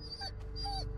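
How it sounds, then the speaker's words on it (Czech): Dog in the Blair Witch video game whimpering, two short high-pitched whining cries over a low background hum, quiet and close. "když pejsek takhle kníčí"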